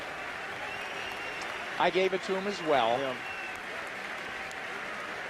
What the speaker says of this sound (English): I give it to this crowd ringside in Switzerland for applauding